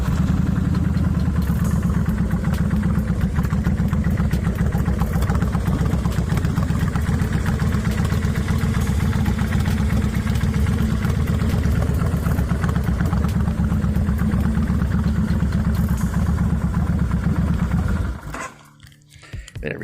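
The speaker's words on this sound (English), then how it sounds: "I'm going to crank her up for you." A 2002 Kawasaki Vulcan Mean Streak 1500 with loud aftermarket pipes idles up close, a deep, throbbing rumble holding steady for nearly twenty seconds before cutting off abruptly near the end.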